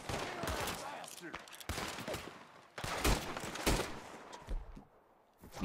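Gunfire crackles through a Red Dead Redemption 2 shootout, with repeated loud shots and bursts clustered close together over a steady din, while a voice speaks in places.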